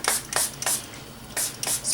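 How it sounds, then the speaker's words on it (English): Quick repeated pumps of a trigger spray bottle spraying a soap mold, five short hissing bursts in two clusters with brief pauses between, close to the microphone. "Spray them really well."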